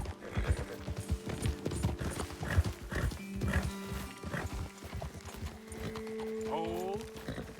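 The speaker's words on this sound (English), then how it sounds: "Best leave the horses back a bit." Horse hooves clip-clop steadily in Red Dead Redemption II, a repeated close rhythm of hoofbeats on a trail, with a horse whinny near the end and a voice talking over it.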